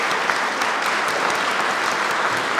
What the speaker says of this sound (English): If you could join me and give them a round of applause